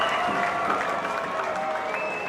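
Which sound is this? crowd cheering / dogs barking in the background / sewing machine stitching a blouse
crowd cheering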